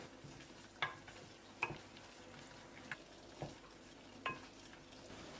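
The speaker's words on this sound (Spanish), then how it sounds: "Hay que remover constantemente." A utensil stirs a flour roux for béchamel sauce in a pan. Faint, occasional scraping strokes sound over a soft, steady sizzle.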